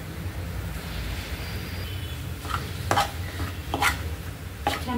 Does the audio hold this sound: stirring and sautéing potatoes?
yes